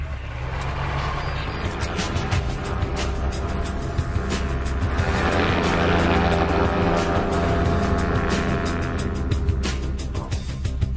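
An ultralight aircraft flies at low altitude, its engine giving a loud, steady, close drone that holds throughout with no breaks and no voices.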